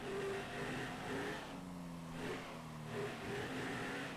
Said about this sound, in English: Oh, what an awful sounding car.